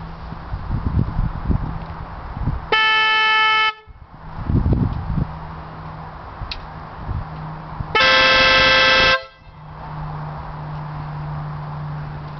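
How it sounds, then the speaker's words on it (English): A Stebel Nautilus air horn sounding together with the stock horn on a Harley-Davidson motorcycle, heard from about two meters away: two loud, blaring honks of roughly one second each, separated by engine idle rumble. "The stock horn works under all circumstances, and the air horn can be switched in to work alongside it."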